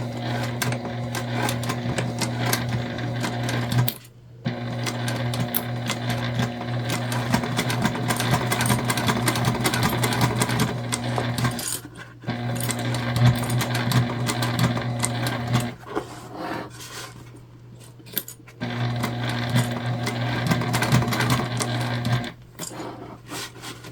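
Sewing machine stitching a tote bag, running in long steady bursts with a constant motor whine and rapid needle clatter, pausing briefly several times before starting again.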